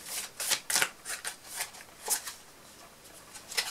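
Tarot cards are handled and laid down on a table, making close, soft papery slides and light slaps in an irregular series of quick bursts.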